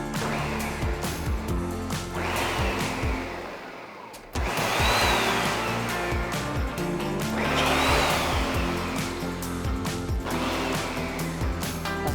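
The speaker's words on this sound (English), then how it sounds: "then blend that up a little bit" A kitchen blender pulses sweet potato muffin spices and salt in repeated whirring bursts with brief gaps between them, loud and close, with no talk.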